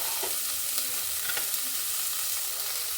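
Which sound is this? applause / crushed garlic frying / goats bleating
crushed garlic frying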